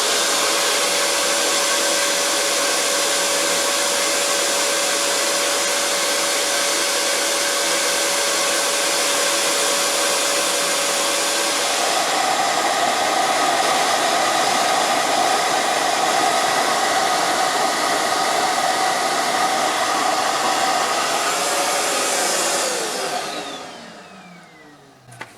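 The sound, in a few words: vacuum cleaner set to blow air through a flowbench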